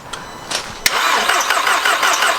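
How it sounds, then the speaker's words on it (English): An Audi TTS 8J, fire damaged and fitted with a part taken from a BMW, cranks briefly and then catches, settling into a steady running engine sound close by. "I put the one out of the BMW in, and hopefully this time it'll at least turn over."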